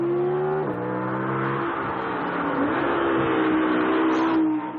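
An Audi R8 V10 Plus at a race track lets out a loud, steady engine howl that climbs and settles in pitch as it pulls, close and continuous with no voices.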